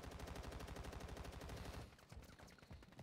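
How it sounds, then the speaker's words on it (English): Loud, rapid automatic gunfire in the Modern Warfare 2 video game, a dense continuous burst for nearly two seconds that breaks into scattered, sharper single shots and short volleys. "He's being shot at from the other direction now."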